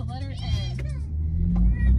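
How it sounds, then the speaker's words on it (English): Car interior while driving to a store: a steady low engine and road rumble runs throughout, swelling slightly at times, with no talk over it. "And I am driving, y'all, so bear with me."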